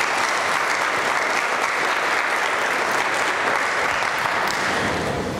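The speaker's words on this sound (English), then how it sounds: "Can we give the Ethiopians a round of applause," Audience at an annual meeting applauds the Ethiopian delegation, a continuous, even crowd of clapping hands filling the hall at moderate loudness without a break, no voices rising above it.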